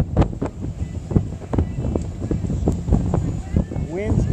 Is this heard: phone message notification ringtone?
no